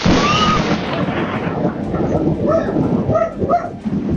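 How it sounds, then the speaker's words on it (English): Thunder rolls in a long, loud rumble during a storm, fading out over several seconds while a few crows caw intermittently in the background. "If you hear thunder, quickly move to a safe shelter."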